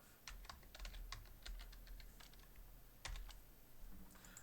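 Typing on a computer keyboard makes a steady patter of close, soft key clicks in uneven bursts over a low background hum, with no speech.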